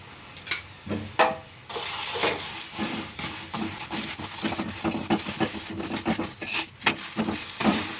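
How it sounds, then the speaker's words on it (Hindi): A paratha made from wheat flour crisping with oil on a pan: continuous soft sizzling with occasional scrapes and taps of a spatula, fairly close and steady, with no talking. "अब पराठे को हम ऑयल लगा के सेक लेंगे"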